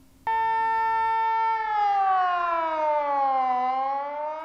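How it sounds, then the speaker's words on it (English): A civil defence warning siren sounds during a test activation across Bahrain's governorates. It is a loud, steady wailing tone that starts abruptly, holds its pitch, then slowly glides lower, with no voices. "the test activation of warning sirens, which was carried out this morning across all governorates of the Kingdom"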